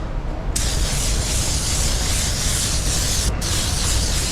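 Steady, loud hiss of a spray gun laying pearl coat paint onto a Tesla Model X panel, a continuous close airy rush with one brief break near the end.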